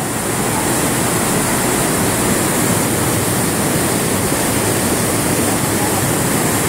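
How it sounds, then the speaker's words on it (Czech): The Rhine Falls waterfall in Switzerland roars as a dense, constant broadband rush of falling water, loud and close, filling the whole stretch without a break. "takový trošku malý vodopádek"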